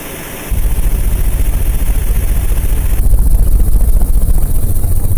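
A loud sports car engine kicks in after a short pause and runs steadily with a rough, even drone, slightly louder in the later seconds.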